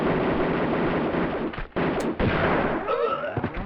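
Enemy shotgun blasts in the Tomb Raider 2 Offshore Rig level: dense, loud gunfire and impact noise filling the scene, with a brief drop-out midway and a final burst.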